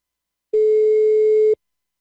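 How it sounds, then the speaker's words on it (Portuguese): A single steady tone from an outgoing telephone call, heard alone and clean for about one second before cutting off, as in a prank-call setting. "Tá chamando."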